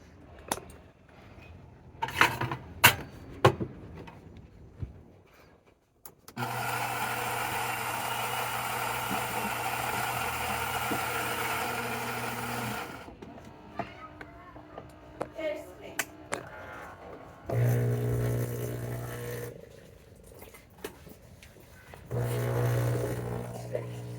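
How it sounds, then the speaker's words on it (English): A Saeco Lirika espresso machine hums loudly with a steady pump drone while pulling a shot of espresso, running in several long stretches separated by brief pauses and clicks, with no speech. "we can finally do our beautiful shot of espresso"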